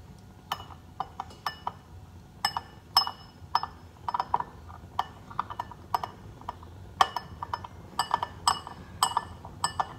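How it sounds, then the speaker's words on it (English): A metal teaspoon stirring coffee in a cup, with a steady stream of bright, sharp clinks against the ceramic in quick irregular taps, close and clear over a quiet background. "I need to stir coffee in this cup and sugar in this cup"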